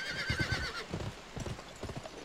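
Horse hooves clip-clop in quick galloping beats in a video game, with a brief whinny-like tone at the start, close and moderately loud, fading into a looser, scattered rhythm.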